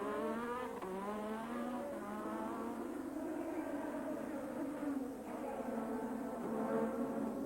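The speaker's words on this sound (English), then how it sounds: "smokes his way out of the pit, lighting up those rear tyres" A 1987 Williams Formula One car leaves the pit at Monaco with its rear tyres spinning, the engine wailing in a loud continuous rising and falling roar, close and unbroken throughout.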